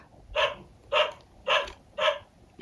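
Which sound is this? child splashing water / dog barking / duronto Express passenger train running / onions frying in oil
dog barking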